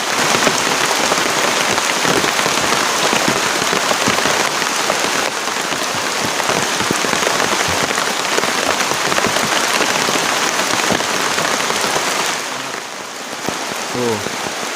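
Heavy rain pours steadily onto a camping shelter, a dense, loud hiss with scattered drips, easing slightly near the end.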